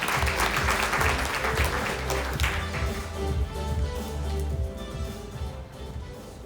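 Audience applause at a Bank of Korea symposium session on Jeju energy, a dense wash of clapping that starts loud and slowly thins out and fades.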